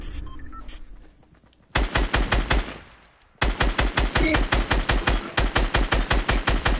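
Automatic gunfire in a PS4 shooter video game: a short burst, a brief lull with faint game noise, then a long run of rapid, evenly spaced loud shots.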